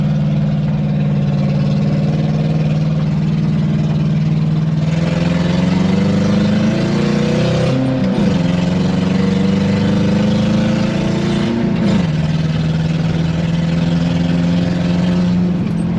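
A Ford F450 truck engine drones loud and steady throughout, swelling as it accelerates on a high-speed run down a driveway, with a couple of brief dips in pitch mid-run before settling back to a strong, even roar.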